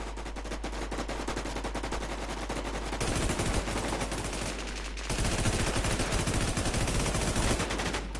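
Sustained rapid automatic gunfire from the WarZ video game, loud and close, rattles without pause and grows denser midway and again near the end.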